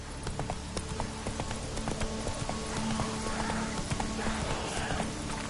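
Roach, Geralt's horse in The Witcher 3, gallops with rapid rhythmic clip-clop hoofbeats, close and steady over a low ambient rumble with a brief snort or whinny, no talking.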